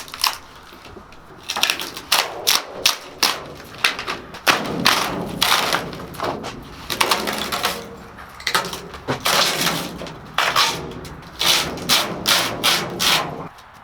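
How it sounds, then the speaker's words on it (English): Fiberglass panel being peeled and pried away from a rusted steel wall on an old trailer being converted into a mobile bar: repeated close thumps, cracks and scraping rasps in irregular bursts, with no talking. "I can actually kind of peel it away since the rust has allowed the fiberglass to separate a little bit"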